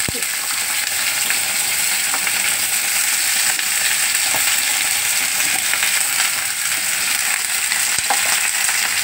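Ridge gourd and potato fry loudly in oil in a pan for a poppy-seed dish, a dense, steady sizzle with a few sharp clicks of stirring, no voices.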